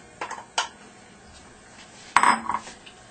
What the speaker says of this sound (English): now I'm going to add four ears of corn, fresh corn that I cut off the cob